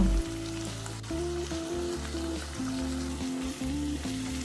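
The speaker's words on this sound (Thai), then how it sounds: "กุ้งที่เราปรุงเรียบร้อยแล้วเมื่อนำลงไปผัดกับเนยแล้วก็กระเทียมนะคะ" Shrimp stir-fry in butter and garlic over medium heat, a steady close sizzle and crackle running throughout under light background music.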